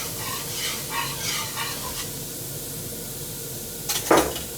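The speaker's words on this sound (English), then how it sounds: "Just want to whisk that around just a little bit." Whisk stirring baking soda into water in a pot for soft pretzels, a steady scraping swish with faint fizzing, ending in a louder metallic clink near the end.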